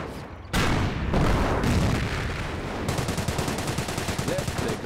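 Rapid gunfire in Company of Heroes with a British army and Panzer elite battle, loud crackling bursts and heavy booms, ending in a fast rhythmic series of shots over dense battle noise.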